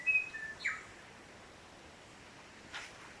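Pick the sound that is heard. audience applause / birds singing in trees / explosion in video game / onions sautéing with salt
birds singing in trees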